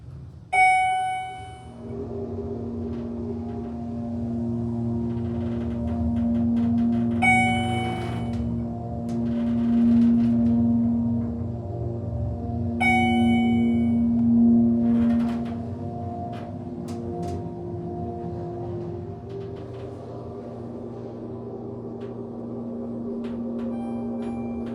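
A Schindler MT hydraulic elevator motor runs steadily for about twenty seconds, a constant low hum with tonal whine, punctuated by a few sharp chime-like clicks and ticks, close and fairly loud in a dark machine room.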